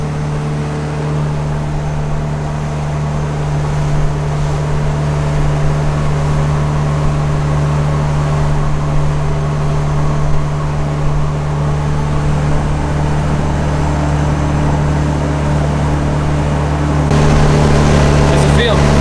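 A 2022 Yamaha 195S motorboat runs on open water with a steady, droning engine hum and a constant wash of water and wind around it, loud and close throughout.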